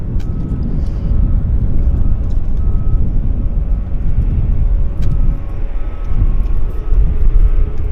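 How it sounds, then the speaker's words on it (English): Heavy jet aircraft rolling out after landing on runway 26 left at Vancouver airport, a loud, steady broadband roar with a faint high whine, heard from the airfield's north side without talking. "So there's that aircraft that landed right there. It's one of the heavies."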